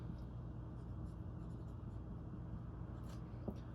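Marker squeaking and scratching across a whiteboard, close and steady, with faint strokes over a low background hum and no talking.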